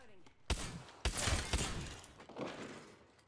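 Gunfire in the video game Apex Legends, a few sharp loud shots and thuds in a fast cluster with ringing decay between them.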